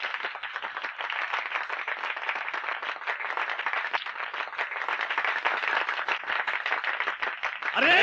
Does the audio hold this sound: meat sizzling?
no